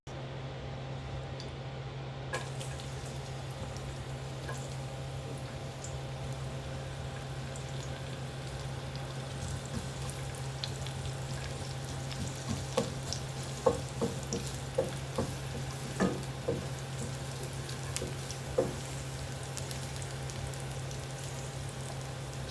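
Tomatoes sautéing in a pan on a stovetop, a soft steady sizzle with scattered crackles and light stirring scrapes, continuous and fairly quiet under a low constant hum, with no one speaking.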